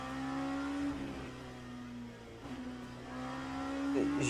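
LMP2 prototype race car engine in the Le Mans Ultimate racing game on cold tyres, a steady droning note that rises and falls with gear changes, continuous and moderately loud.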